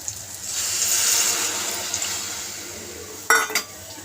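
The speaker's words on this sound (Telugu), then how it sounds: "అందుకే కొంచెం వాటర్ ఎక్కువగానే పోసుకోవాలి ఇలా పోసి మూత పెట్టేశాను" Water splashes steadily into a curry pot of vadiyalu for about three seconds, close and fairly loud, followed by a sharp metallic clank.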